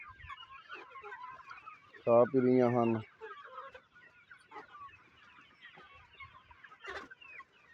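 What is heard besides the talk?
free-range desi chickens clucking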